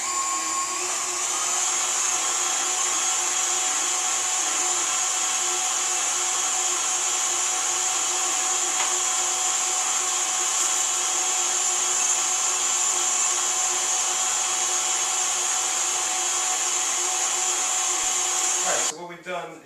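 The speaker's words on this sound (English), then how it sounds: "we finished grinding the meat" A meat grinder whirs loudly and steadily as it grinds seasoned pork and beef, its high-pitched motor whine running without pause for nearly twenty seconds before stopping with a brief clatter.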